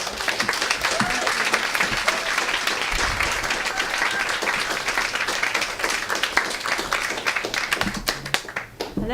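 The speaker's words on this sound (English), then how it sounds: "please can we have another round of applause?" An audience at a talk on a personal sewing story breaks into sustained applause, a dense patter of many hands clapping at an even level throughout, with a few sharper individual claps standing out near the end.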